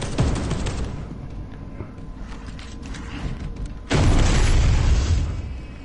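A missile launcher in Space Hulk Deathangel fires with a loud, sudden explosive burst after a stretch of mechanical creaks and clanks, the blast ringing out and slowly fading.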